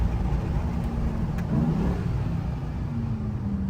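A Ram TRX pickup truck's big engine rumbles and revs up steadily, a deep continuous roar close by, growing slightly louder in the middle before settling back.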